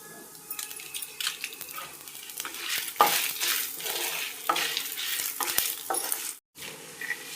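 Whole spices and broken dried red chillies fry in a pan for a sweet potato chutney, crackling and sizzling moderately loud with repeated spatula scrapes and taps, then cutting out in a brief silence before resuming.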